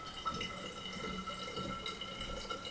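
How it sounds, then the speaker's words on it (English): Water poured into a plastic soda bottle, a soft continuous trickling and gurgling at low volume for a few seconds. "I am putting the water into the soda bottle."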